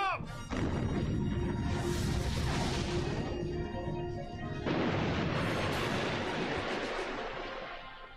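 Giant cannon blasts from the airship battleship Mikasa in Sakura Taisen, two loud booming discharges with long rumbling decay, the second striking around the midpoint, all with game music underneath.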